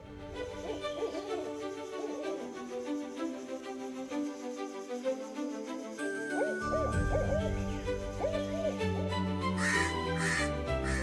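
An owl hooting in the wild, repeated soft hoots spaced a few seconds apart over a steady natural background, with a crow cawing later on.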